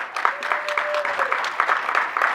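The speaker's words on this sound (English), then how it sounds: "Let's give a round of applause for our students," Applause for students at a school advisory board meeting, a dense, steady patter of many hands clapping close by, with a faint whistle-like tone briefly riding above it.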